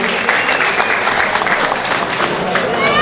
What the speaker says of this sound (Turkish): Alkışlayalım Mustafa Bey'imizi.